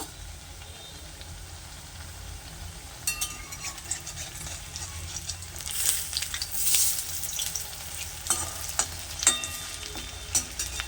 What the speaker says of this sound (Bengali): এখন উপরের পিঠটা ভাজার জন্য বড়াগুলোকে উল্টিয়ে দেব